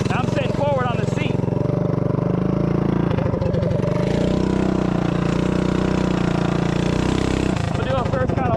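Minibike with a 212 Hemi engine running loud and close, a steady mid-pitched droning rumble with slight shifts in pitch as it rides, while a rider talks over it.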